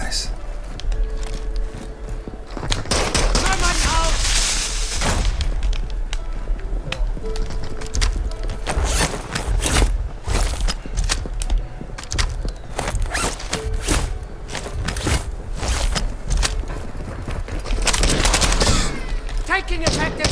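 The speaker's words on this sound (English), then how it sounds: "Taking effective fire!" Rapid bursts of automatic gunfire in the video game Call of Duty Black Ops 7 Zombies, loud and nearly continuous with dense overlapping shots and voices talking beneath the shooting.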